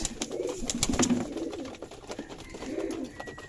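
Racing pigeons and Giribaj tumbler pigeons cooing in a loft, with soft repeated low coos close by, along with occasional wing flutters and faint clicks and no talking.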